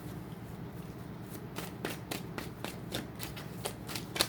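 Tarot cards being shuffled by hand, a soft steady riffle that turns into a series of crisp snapping flicks as the cards fall together, close and quiet.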